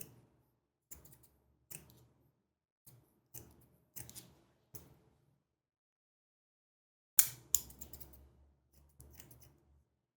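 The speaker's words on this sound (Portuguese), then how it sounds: "Você consegue tirar também com a tesoura dentada, tirando o excesso" Thinning scissors snip through hair during a mid fade haircut, giving sharp, close metallic clicks in irregular bursts, some in quick double snips, with silent gaps between and a louder cluster near the end.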